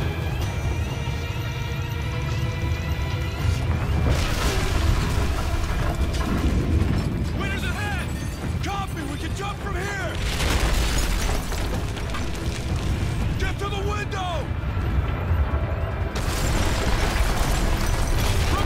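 A whole building blows up in Call of Duty: Ghosts, a dense, loud stretch of rumbling booms and crashing debris mixed with constant game noise, with a voice speaking now and then over the chaos.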